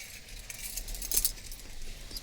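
Car keys jangle faintly in a Nissan Navara, a brief metallic clinking over a steady low background hum, with no voices.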